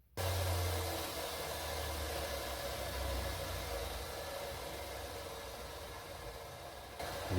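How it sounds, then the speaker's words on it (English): A power sander grinds on the steel exhaust pipe of a turbo Fiat Cinquecento in a home workshop, a steady close whirring hiss that runs continuously before cutting off near the end. "let's grab the sander and get going."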